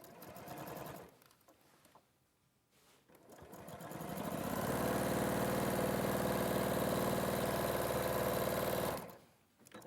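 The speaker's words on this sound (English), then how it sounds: "And then we're going to sew that on." A sewing machine stitches a quarter-inch seam in quilting fabric, a brief start and stop followed by a long steady run of fast, even whirring, close and continuous before cutting off.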